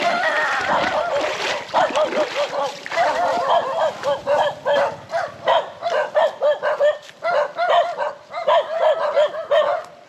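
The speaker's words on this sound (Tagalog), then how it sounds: "Mga aso. Kagatin tayo." Several dogs bark repeatedly in quick, uneven bursts, fairly close and loud, with some yips mixed in.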